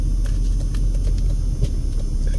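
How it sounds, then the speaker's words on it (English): A car idles on a street near Fremont Street in Las Vegas, a deep, steady engine rumble close by with scattered light taps and clicks over it. "And I've got this car kind of blocking me here."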